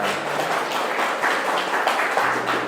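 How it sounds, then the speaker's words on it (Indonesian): A lecture room full of people applauds, a dense, steady clatter of clapping hands throughout. "Oke, tepuk tangan dulu ya."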